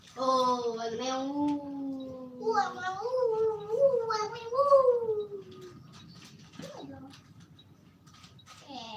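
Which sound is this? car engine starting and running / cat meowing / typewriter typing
cat meowing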